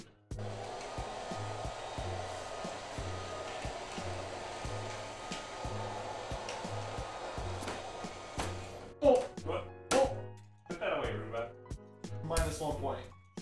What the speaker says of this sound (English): Let's go ahead and test out Roomba.